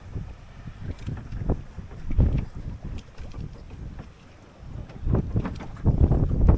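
Gusty wind buffets a microphone aboard a Drascombe Lugger sailboat while the boom is being rigged, coming in uneven rushing bursts that swell and fade across the stretch.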